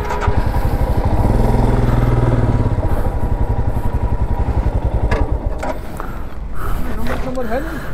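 A Royal Enfield motorcycle idles nearby with a steady, loud, rhythmic low thump throughout, while people talk over it.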